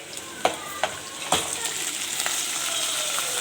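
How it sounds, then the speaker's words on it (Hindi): Tomatoes dropped into a pan of frying garlic and chillies, several sharp clatters and splashes followed by a steady close sizzle that builds as the pan keeps hissing. "अब मैंने इसमें डालने हैं टमाटर इस स्टेज पे।"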